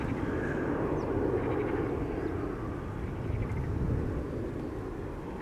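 A jet airliner takes off on the Polderbaan runway at Schiphol, a loud, steady roaring rumble that holds throughout with no talk over it.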